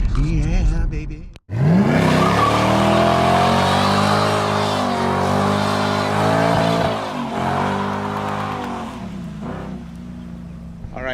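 A Chevrolet Camaro cruises on a road on Hawaii's Big Island, its engine giving a steady, loud, harmonic drone that swells and eases slightly over several seconds, with nothing else heard.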